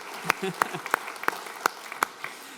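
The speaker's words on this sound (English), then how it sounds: "We'll give him a round of applause, I reckon." Handclaps at a TAFE graduation ceremony come as a sparse, evenly spaced run of sharp claps, fairly close and moderately loud, with a faint murmur underneath.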